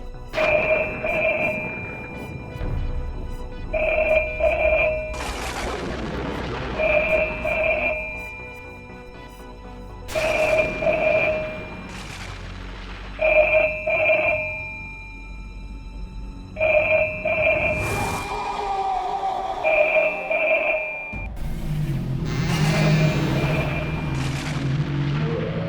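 A telephone rings in repeated double bursts, ring after ring with short pauses, fairly quiet, with some background noise and a voice near the end.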